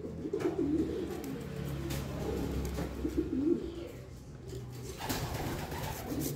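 Pigeons coo in low, throaty rolls, repeating steadily against a constant background rumble, with a brief rustle near the end.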